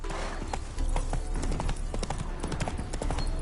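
Rhythmic clip-clop of horse hooves in The Witcher 3, steady trotting steps close up over ambient game sound.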